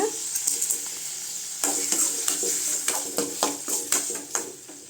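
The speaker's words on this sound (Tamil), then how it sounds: "தக்காளி நல்லா வதங்கட்டுங்க." Tomatoes with salt sautéing in a pan, a close sizzling hiss broken by frequent stirring scrapes and soft ladle taps in a brisk, irregular rhythm.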